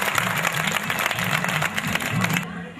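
Audience applause at a 2014 Hindi kavi sammelan poetry gathering: dense, steady clapping fills the hall for over two seconds with a low voice murmuring beneath, then cuts off abruptly near the end.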